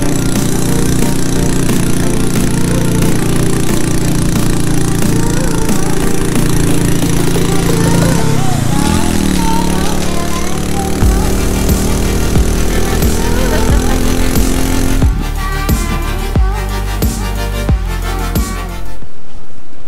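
An overheated motorcycle engine running loud and close high in the Vietnamese mountains near Da Lat, a steady rough drone with shifting pitch that changes character toward the end before cutting off.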